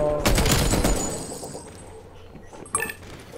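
Bursts of M60 machine gun fire in the shooter Black Ops Cold War, a dense loud volley in the first second that tails off, with a sharp crack near the end.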